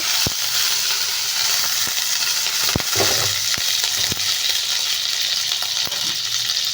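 Butter melting in a saucepan while making tomato soup, a steady close crackling sizzle with a few sharp pops and light stirring clatter, no voices.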